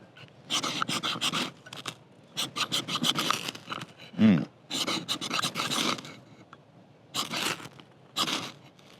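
An Old Hickory hunting knife scrapes in a run of loud, close, repeated rasping strokes separated by short pauses, with a single dull thump partway through and no talking.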